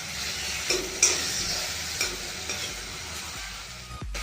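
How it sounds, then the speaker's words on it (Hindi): A chilli chana sauce mixture with tomato ketchup is stirred in a pan, soft scraping strokes every half second or so over a faint steady sizzle, close and quiet, no voices. "इस चीज़ों को अच्छी तरीके से मिक्स कर देती हूँ।"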